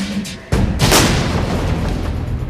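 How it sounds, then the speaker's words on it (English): Simulated rocket-propelled grenade strike on a military vehicle patrol, a loud sudden blast followed by a heavy rumbling roar and sustained noise that stays strong to the end. "We have simulated an incident in which a vehicle patrol is hit by a rocket-propelled grenade."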